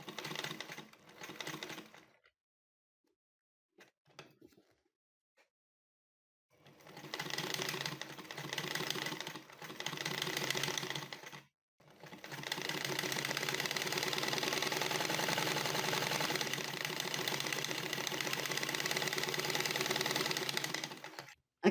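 Black sewing machine fitted with a quilting foot stitching in bursts: a fast, steady mechanical rattle starting and stopping several times, then running continuously for about ten seconds, close up with no talk.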